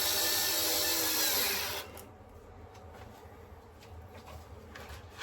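A power drill drives a 3mm by 20mm wood screw into a model railway baseboard, a loud whirring burst for nearly two seconds that cuts off abruptly, followed by faint handling taps and quiet room noise.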